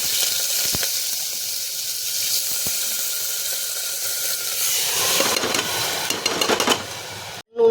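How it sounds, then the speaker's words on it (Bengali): Whole spices with black cumin and green chilli tempering in hot oil inside a pressure cooker, a steady loud hissing sizzle that flares into sharper crackling and spitting near the end, close up and with no voices. "এবার সব একসঙ্গে তেলের উপরে ফোড়ন দিচ্ছি"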